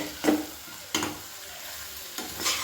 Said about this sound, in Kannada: ಸೊ ಇದು ಫ್ರೈ ಆಗಿ ಎಣ್ಣೆ ಬಿಡುತ್ತೆ ಸೈಡಿಗೆ